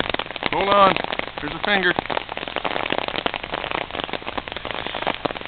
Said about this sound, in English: They're having a monsoon or something here.